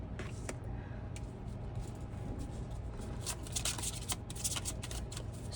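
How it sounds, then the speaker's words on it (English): Tarot cards reshuffled by hand, a soft, continuous papery riffling and sliding with scattered sharper flicks near the end, heard up close against a steady low background hum. "Oh no, we're gonna reshuffle again."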